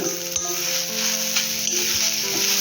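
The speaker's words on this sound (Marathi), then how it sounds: "तर आपण पूर्ण खोबरं भाजून घेते पाहिजे" Grated coconut roasting in a hot pan for a Malvani masala gives a loud, continuous dry sizzle, with occasional stirring scrapes and a bright hiss throughout, close and unbroken by talk.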